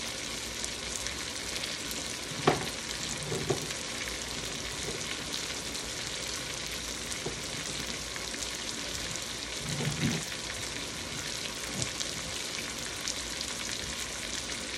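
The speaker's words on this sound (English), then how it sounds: "So what we're really doing right now is frying them, or as people say, saute them." Steady, dense sizzling of chicken leg quarters frying in a hot pan, with a few soft clinks and stirring sounds now and then.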